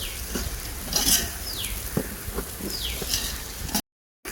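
Green chillies sizzle in hot oil in a pan for home-cooked mutton biryani, a steady frying hiss broken by a few stirring scrapes of a spoon against the pan.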